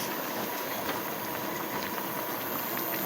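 Coconut milk goes into a simmering pot, producing a soft, steady bubbling hiss with faint stirring clicks, fairly quiet and without voices.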